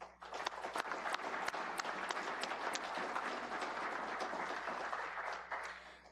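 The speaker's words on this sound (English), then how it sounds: "Can we give them a round of applause?" Members at an electric cooperative's annual meeting applaud the meter readers, steady, dense clapping from a large room that holds evenly, then tapers slightly at the end.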